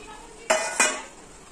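Sweet pumpkin pieces tipped into a hot pan for a Bengali prawn curry, making two sharp clattering impacts a moment apart, near and clear, followed by a faint sizzle with no talking.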